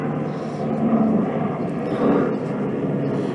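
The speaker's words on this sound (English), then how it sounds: "Sorry about the helicopter." A helicopter passes overhead as a distant, muffled rotor and engine rumble. It swells slightly in the middle and sits faintly beneath a quiet reading voice.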